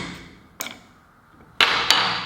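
A 1/4 inch transfer punch, seated in a 1/4 inch hole, is struck twice to center-mark it: two sharp close metallic taps about a second apart, each ringing briefly.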